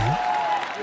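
A short burst of studio-audience applause on a Hindi TV comedy show, Entertainment Ki Raat. It is fairly faint and lasts under a second.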